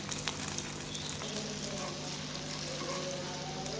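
Shami kebab patties fry on a hot griddle, giving a steady, close sizzle with light popping crackles that continues evenly throughout, with no talking.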